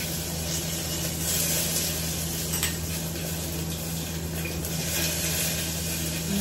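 Garlic, ginger and dried red chili sizzling in hot oil in a pan, a steady, dense crackling hiss that continues evenly throughout with faint stirring clinks and no talk.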